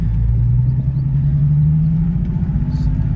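A Nissan 370Z Nismo pulls away in first gear, a loud close low engine rumble that rises steadily in pitch as it accelerates over a few seconds.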